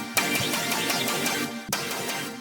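Layered synth bass stacking a supersaw with vocoded layers in a heavy color bass track: dense, bright sustained tone with rhythmic pulses, a sharp break and a re-entry near the end, played alone.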